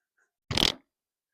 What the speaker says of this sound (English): I just hit the table with my arm.